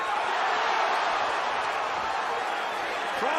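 A boxing arena crowd at the 2005 Corrales–Castillo fight gives off a steady, loud roar of massed voices, with cheers surging in reaction to the punches and no pauses in the din.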